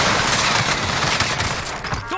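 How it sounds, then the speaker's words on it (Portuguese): Dense, loud automatic gunfire from a Call of Duty match, continuous overlapping rattling shots with no break, under brief game voice chatter. "Estão atirando em mim."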